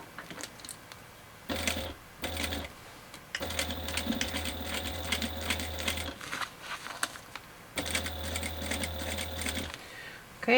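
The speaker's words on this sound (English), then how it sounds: "I'm going to back stitch and forward stitch a few times, and then I'm going to stop." A sewing machine stitches fabric in bursts, whirring in several short runs with pauses between as it backstitches and forward-stitches at the corners, close and clear with a faint voice in the background.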